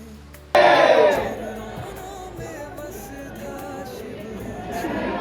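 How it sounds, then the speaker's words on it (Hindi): An evening crowd gathers at Kal Bhairav temple in Ujjain, a steady murmur of voices and bustle that follows a sudden loud burst at the start and stays moderately loud throughout. "लेकिन भीड़ कम नहीं हुई है अभी यहाँ पर।"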